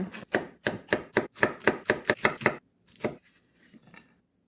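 A knife chops red chili peppers into short pieces on a cutting board, striking about ten times in a quick, even rhythm. A few softer, scattered cuts follow, close and clear, with no talking.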